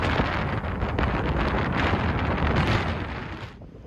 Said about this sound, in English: It is so windy, but now I'm at the beach